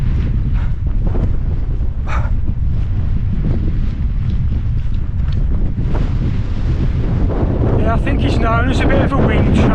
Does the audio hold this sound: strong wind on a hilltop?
yes